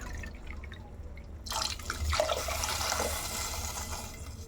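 Water pours from glasses into rice in a pot for vegetable pulao, starting as a sudden gush after a quiet moment and continuing as a steady, splashing flow close to the listener.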